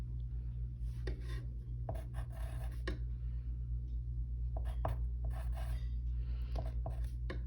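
A pencil scratches across a sheet of paper in quick, irregular strokes, close and fairly faint over a steady low electrical hum.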